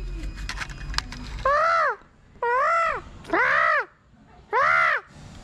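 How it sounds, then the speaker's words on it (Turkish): Four loud, drawn-out wailing peacock calls ring out close by, evenly spaced with short pauses between them. "Buradaki tavus kuşları böyle ses çıkarıyor Noah."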